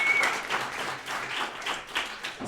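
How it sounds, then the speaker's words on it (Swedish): An audience at a Swedish coffee championship gives warm applause for a competitor introduced on stage, a steady wash of many hands clapping, moderately loud and close. "En varm applåd för Håkan."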